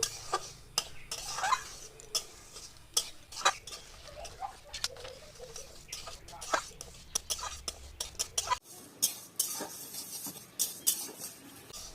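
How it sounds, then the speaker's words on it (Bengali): Mung dal dry-roasting in a dry wok, stirred with a utensil that gives sharp repeated clicks and scrapes against the metal over a quiet background, irregular taps close by with no talking. "শুকনো কড়াইতে আমি মুগ ডালটা ভেজে নেব।"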